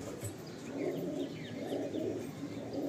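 Racing pigeons coo in a loft, a steady, rolling low murmur of overlapping calls with a few faint higher chirps mixed in, continuous for the whole stretch with no talking.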